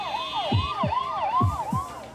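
An ambulance siren wails in a rapid repeating up-down pattern, loud and close, during an urgent heart transport through Bangalore, with no voices over it.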